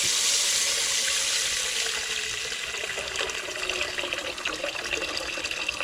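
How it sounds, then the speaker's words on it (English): Tap water pours steadily into a cooking pot for collard greens, a loud, continuous splashing rush that holds for several seconds with no talk. "So I'm going to fill the pot about 3/4 of the way up."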